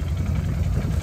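A motorcycle engine idles steadily nearby on a ride toward Landmannalaugar near Hekla, a low continuous rumble with no talk.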